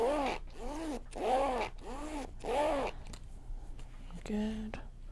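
Zipper on a handmade sewn traveller sling bag pulled open and closed in several steady rasping strokes, close and clear, followed by a brief tonal sound at the end.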